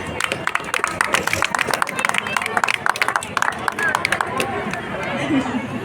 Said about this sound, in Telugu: ఒకసారి పెద్దగా చప్పట్లు సార్ ప్లీజ్